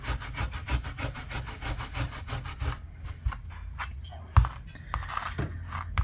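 Steel wool scrubs rust off an old vintage rake in quick, rhythmic rasping strokes, close and fairly quiet, then slows into scattered scrapes and a sharper knock.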